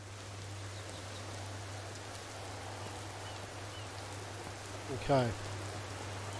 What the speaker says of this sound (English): little bit rainy.